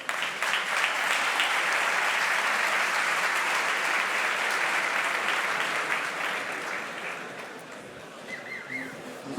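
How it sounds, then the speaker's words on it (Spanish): A crowd at the Andorra Economic Forum 2024 claps for three digital-business panel speakers, a thick, sustained burst of applause that slowly thins and fades toward the end. "Así que un fuerte aplauso para los tres."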